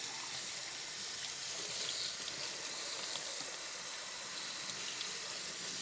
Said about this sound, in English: turn your cold water on